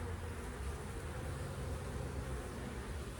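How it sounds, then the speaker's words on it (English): Honeybees humming around a long bar beehive in a Pacific Northwest garden, a faint, steady, continuous drone with no distinct events and no voices. "But anyways, here is my beehive."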